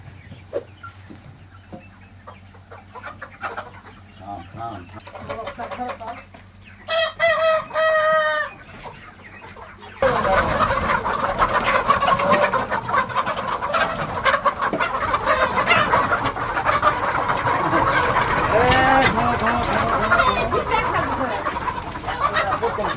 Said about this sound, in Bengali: বাড়ির খামারের পালা মোরগ